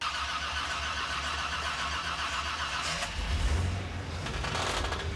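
A car engine is fired for the first time, with steady cranking and churning noise that swells into a rough, low burst of running before settling.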